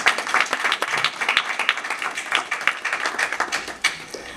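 A church congregation applauding during a French-language sermon, a burst of dense clapping from many hands filling the room steadily for several seconds.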